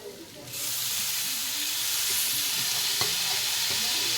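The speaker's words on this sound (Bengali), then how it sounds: "ওটাও ভালো করে নাড়িয়ে নেব।" Chopped tomato goes into hot oil and the sizzle jumps up loud and bright, then stays strong and steady while a few soft stirring scrapes and one sharp tap sound close by.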